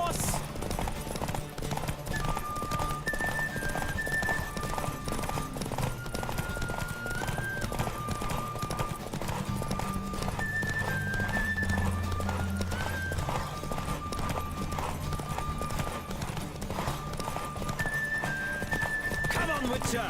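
A horse gallops in a race in the video game The Witcher 3, steady rapid hoofbeats with occasional neighs, played under background music and spoken character dialogue.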